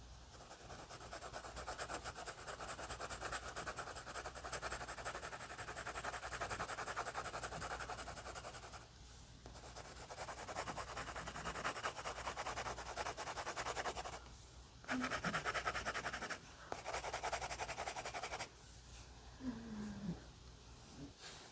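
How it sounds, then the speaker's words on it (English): A 2B pencil shading on paper makes a soft, continuous close scratching that is broken by short pauses, with brief quieter stretches between strokes. "I'm going to take my 2B pencil now and continue just adding some more shading"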